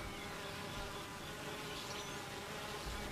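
Honey bees buzzing inside their hive: a dense, steady drone of many wings, close and continuous, with no voices.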